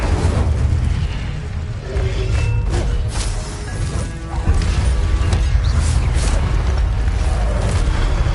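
A fire spell cast in Hogwarts Legacy gives loud booming, crackling bursts over a dense, constant game soundscape, with a brief dip in the middle before the rumble swells again.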